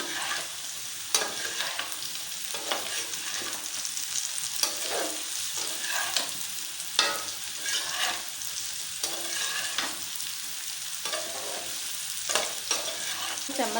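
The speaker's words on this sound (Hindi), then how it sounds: "चम्मच चलाते रहना चाहिए ताकि ये आलू नीचे से फिर लगेंगे नहीं।" Potatoes with green chillies fry in a pan while a spoon stirs them repeatedly, so rhythmic scrapes and clinks rise over a constant close sizzle.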